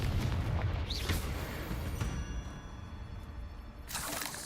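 A Confringo explosive spell goes off in Hogwarts Legacy as a series of loud, booming blasts with crackling bursts over a dense rumbling game background, ending in a sharp flare.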